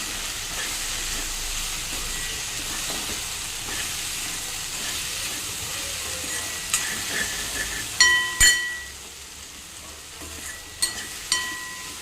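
Okra stir-fry with red chili powder and goda masala in a pan, a soft steady sizzle that becomes clattering stirring scrapes toward the end.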